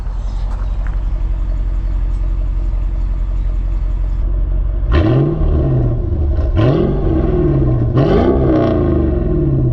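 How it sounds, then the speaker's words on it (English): A deep, steady supercharged V8 rumble from a Mercedes CLS55 AMG idles throughout, with a few short throttle blips rising and falling partway through; loud and close, no talking. "So let's listen to that V8 rumble. Just idle, see what it sounds like."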